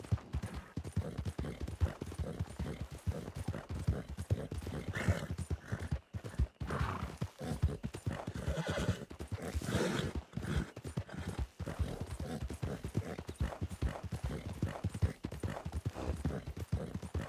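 Hooves clip-clop steadily as a horse moves in Red Dead Redemption 2, with a clear whinny partway through and a few sharp, distant gunshot-like cracks breaking the rhythm.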